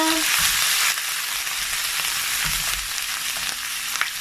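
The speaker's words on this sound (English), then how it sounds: "Allow it to fry for 1 to 2 minutes before I add other ingredients." Cumin, ginger and garlic frying in oil as the base of a lamb curry, a loud continuous hissing sizzle that eases slightly after the first second, with faint stirring knocks.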